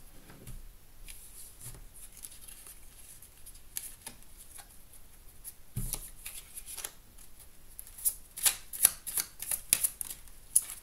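Oracle cards being shuffled by hand, faint, soft card rustles and slides through most of the stretch, building to a quicker flurry of crisp, close flicks near the end.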